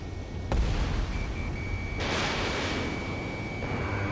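Missile explosion destroying an enemy UAV in the combat flight game Ace Combat 7, a sharp burst followed by a loud rumbling blast over continuous jet engine roar.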